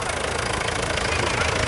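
A restored vintage grey tractor with an automatic hitch hook, running on petrol and tractor vaporizing oil, chugs past at a country fair, its loud, steady engine rumble filling the whole clip.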